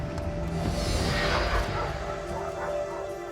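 Taz, a rescued pet dog, gives a few soft barks and yips at close range. The sound is fairly quiet, with faint background noise.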